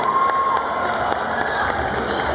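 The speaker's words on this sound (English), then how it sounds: "Round of applause for Saga, please." Audience at a One Piece anime cosplay contest cheers and claps loudly and steadily, a dense crowd roar filling the hall with occasional shouts rising above it.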